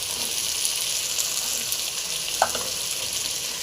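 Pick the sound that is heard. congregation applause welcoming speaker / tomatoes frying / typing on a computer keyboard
tomatoes frying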